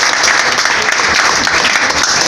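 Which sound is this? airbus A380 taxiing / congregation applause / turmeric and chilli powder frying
congregation applause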